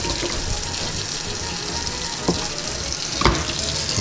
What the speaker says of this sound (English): Now what I'm going to do is I'm going to wash all these birds. Make sure you're using cold water, okay?